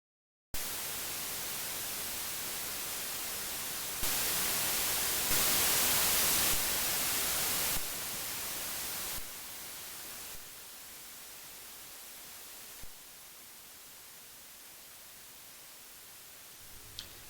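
A white noise generator built live in XTlang code, heard as a loud, flat hiss that steps up and down in level in abrupt blocks, softening noticeably over the second half.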